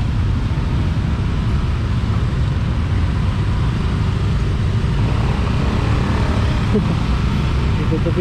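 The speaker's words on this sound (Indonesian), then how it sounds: "Biasanya setiap hari kayak gini macet di Shortcut Canggu." Traffic jam on the Shortcut road in Canggu, Bali: a dense, continuous rumble of idling and crawling engines, cars and motorbikes close by, loud and unbroken throughout.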